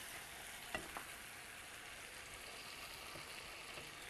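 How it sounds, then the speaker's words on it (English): Spiced cauliflower with lemon juice and salt gets a final stir in a pan, under a faint, even frying hiss with a single soft scrape near the start, quiet and close. "One final stir."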